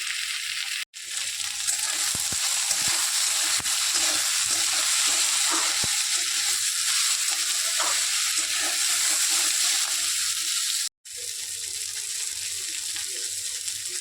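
Vegetables for chilli mushroom frying in a pan give a loud, steady hissing sizzle with occasional scrapes of stirring, heard close up for the whole stretch with two brief cuts to silence and no talking.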